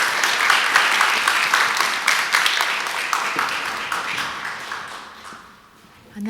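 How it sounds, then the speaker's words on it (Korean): An audience at a church lecture gathering claps to welcome the speaker, a dense, lively burst of applause that gradually thins and fades out near the end. "박수로 모시겠습니다."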